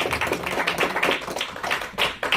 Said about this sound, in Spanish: Tiene un aplauso fuerte al Rey de Reyes y Señor del Señor.